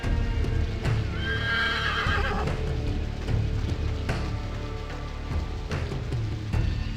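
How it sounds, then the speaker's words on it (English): Horses in the video game 300: March to Glory give a clear, loud neigh early on while hooves clop in a steady, close rhythm throughout, over a soft hissing background. "It's just the horses."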